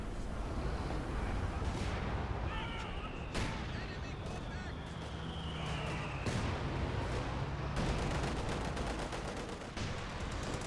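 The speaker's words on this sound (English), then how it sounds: "Katusha barrage coming on in" Katyusha rocket barrage in Company of Heroes 2, a dense rumble of launches and blasts mixed into continuous battle noise, with a commentator talking throughout.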